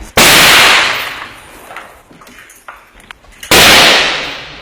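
Two loud sniper gunshots ring out across a river, each a sharp crack followed by a long decaying echo, separated by a few seconds of quieter rumbling background.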